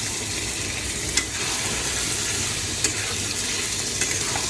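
Potatoes fry in a pan, a constant hissing sizzle close by with a few sharp clinks of a stirring utensil and no talking.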